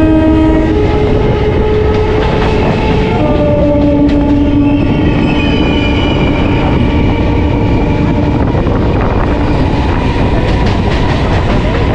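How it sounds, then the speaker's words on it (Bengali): A Gede–Majerhat local train arrives at Padma station in West Bengal, its horn sounding loudly at the start while wheels clatter and rumble steadily close by throughout. "এই মুহূর্তে আমাদের ট্রেন এসে পৌঁছেছে পদ্মা স্টেশনে।"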